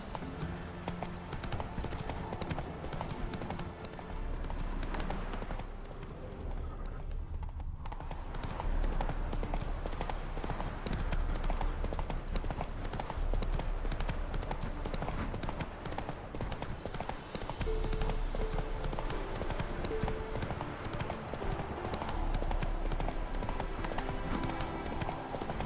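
Roach the horse gallops in The Witcher 3: Hearts of Stone, steady clip-clopping hoofbeats running continuously and fairly close, with game music and ambience underneath and a short break in the sound partway through.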